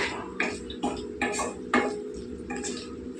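Potato fry pieces being stirred in a pan and a lid set on top, giving several sharp metallic clinks and scrapes spaced about a second apart over a low steady background.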